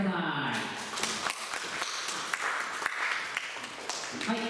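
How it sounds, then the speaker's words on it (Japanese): Audience applause in the Futamatagawa Sun Heart music hall welcoming a flute performer to the stage, dense steady clapping throughout with a few sharper individual claps standing out near the end. "拍手でお迎えください。"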